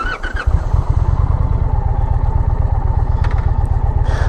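An Indian Pursuit Limited motorcycle fires up at the push of its auto start button, a brief crank giving way to a loud, close, steady throbbing idle that runs on alone.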